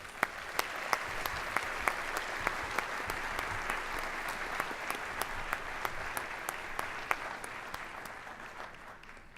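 A convention audience claps steadily to welcome a speaker, a full room of applause with sharp individual claps standing out, sustained evenly throughout without talk.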